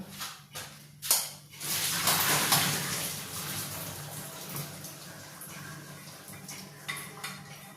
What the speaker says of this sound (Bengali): হয়ে গেছে, এবার আমি কিন্তু আলুটা ছেঁকে নেব।